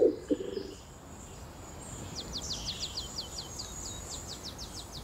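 A wild canary in the Canary Islands sings a rapid series of high, thin trilled notes at moderate distance over a soft, steady outdoor background, following a brief low thump at the start.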